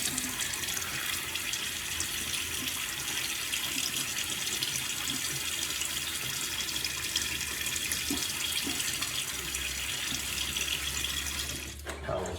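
Water runs steadily from a bathroom tap as a face is wetted before a shave, a constant close hiss that continues for the whole stretch and cuts off right at the end.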